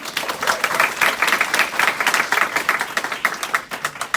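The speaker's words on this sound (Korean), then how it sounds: "유선희 사장님한테 박수 한번 드리도록 할까요" A small audience at a Korean business seminar claps for a host, steady dense clapping filling the clip without talk.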